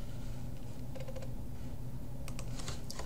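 Keys tapped on a computer keyboard during a Microsoft Teams demo, a faint scattered run of clicks with a brief burst near the end, over a steady background hum.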